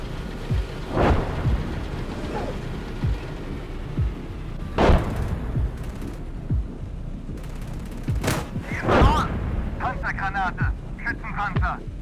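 Cannon fire in the tank game Gunner HEAT PC during a night counterattack with Marder 1 vehicles: several heavy booms spaced a few seconds apart over a constant rumbling background, with someone talking between shots.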